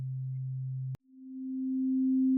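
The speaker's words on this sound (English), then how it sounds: "This is a sine wave. A sine wave has a smooth and clean sound." A VCV Rack oscillator plays a pure sine tone: a steady low hum, then an abrupt cut and a slightly higher tone swelling back in and holding steady and clean.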